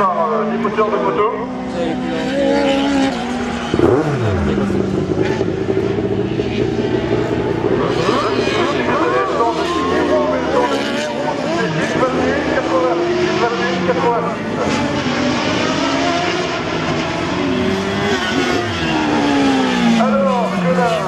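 A slalom race car powered by a motorcycle engine accelerates hard at a hillclimb-style event, its high revving engine note rising and falling continuously, with commentary talk running over it.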